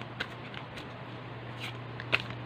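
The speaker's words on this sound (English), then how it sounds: "I'm just gonna shuffle." Tarot cards being shuffled by hand during a reading, with faint soft riffles and one sharper snap near the end over a steady low hum.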